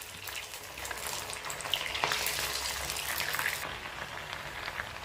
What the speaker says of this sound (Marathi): पकोडे टाकून घेऊया. एकदा तेल गरम झालं, मीडियम पॉवर आपल्याला तळून घ्यायचं आहे.